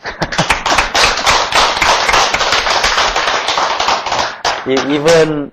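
A church congregation at a Wednesday Bible study service claps again, a loud, dense burst of many hands that fills most of the stretch, then fades as a voice begins speaking near the end.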